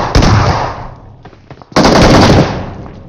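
Gunfire in a mobile shooter game played on an iPhone 12, heavy loud bursts close up, a dense blast that fades, a short gap with faint pops, then a second loud burst.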